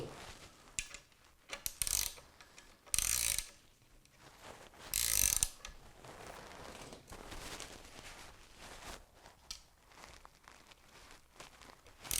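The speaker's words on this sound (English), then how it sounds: "I'm going to use this vise to hold the one side of the nut so that I can sit here and tighten with this one" A wrench ratchets as a nut is tightened on a bolt held in a vise while building a 3D-printed miniature train. Quiet, irregular clicks and short mechanical bursts come close by with pauses between them.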